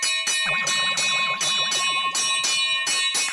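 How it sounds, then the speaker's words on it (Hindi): A temple bell is struck over and over in a fast, even rhythm, roughly eight loud, ringing strikes up close with overlapping tones and no voices. "अरे मंदिर की घंटी है भाई, कोई फायर ब्रिगेड की घंटी नहीं है कि लगातार बजाए जा रहे हो"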